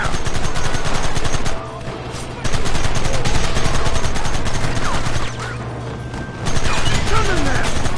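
A Red Dead Redemption video game shootout, with loud, dense rapid gunfire that cracks almost continuously and thins out in two brief lulls.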